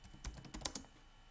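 Typing on a computer keyboard while editing a file in the nano editor on Linux: a short run of about six soft, close keystrokes, with a couple of sharper clicks among them, then quiet.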